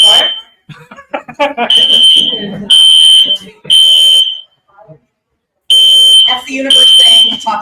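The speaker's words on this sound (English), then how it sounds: "Fire alarm." A piercing fire alarm blares at an expo hall in loud repeating electronic tones, broken by short pauses, with people talking over and between the blasts.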